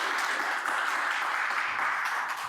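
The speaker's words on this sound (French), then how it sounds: "Applaudissez-le." Steady, fairly distant audience applause with dense clapping, continuous for a few seconds as a dating game show host welcomes the next participant onstage.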